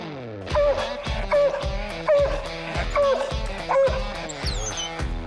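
A coonhound that has treed a raccoon bays and yips in a steady rhythm of repeated, loud, close barks.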